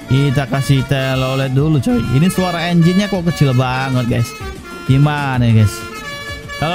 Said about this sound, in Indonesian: Kita kasih telolet dulu coy.